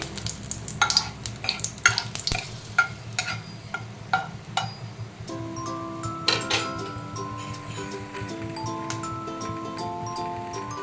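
Dried red chilies crackle in hot oil as a tempering, with spoon scrapes and clinks against the pan up close, followed by a steadier sizzle under a faint tonal hum.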